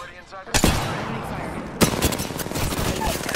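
Rapid gunfire in the Apex Legends video game, with bursts of shots cracking over a continuous battle din, two sharp volleys standing out, while a player talks over the action.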